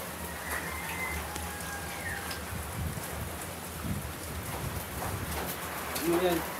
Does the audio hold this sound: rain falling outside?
yes